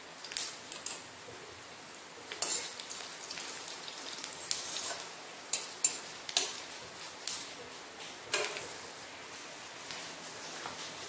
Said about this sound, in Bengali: তেল গরম হয়ে গেছে, এর মধ্যে আমি তেজপাতা, পাঁচফোড়ন আর শুকনো লঙ্কা দিয়ে দিলাম।